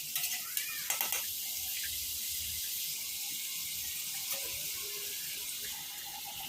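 Capsicum is stirred into a sizzling tempering mixture in a pan for pulao; a few knocks of a spoon open a soft, fairly faint, steady sizzle with gentle stirring.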